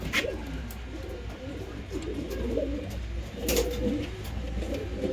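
Loft pigeons giving soft, low cooing calls that go on and on, fairly close but faint, over a steady room hum with a couple of brief rustles.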